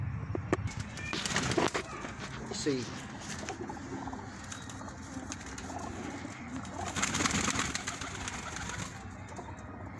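Racing pigeons in Haryana coo softly and flap their wings in bursts, with someone briefly speaking over the outdoor bird sounds.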